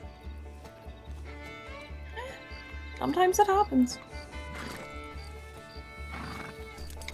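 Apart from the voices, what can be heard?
horse neighing and hooves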